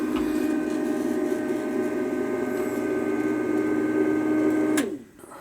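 A gas furnace runs with a steady, close mechanical hum and fixed tonal drone. After about five seconds it stops abruptly, leaving near silence.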